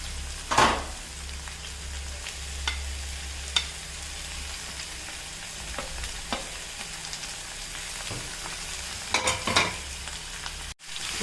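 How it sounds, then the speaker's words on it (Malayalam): Carrot, potato, snake gourd and cabbage stir-fry in a pan with a soft, continuous sizzle, broken by occasional scraping clacks of a spoon stirring, close up and without talk. "നമ്മുടെ ക്യാരറ്റ്, ഉരുളക്കിഴങ്ങ്, പീച്ചങ്ങ, ക്യാബേജ് എല്ലാം നമുക്ക് ഒന്നിച്ചിട്ട് കൊടുക്കാം."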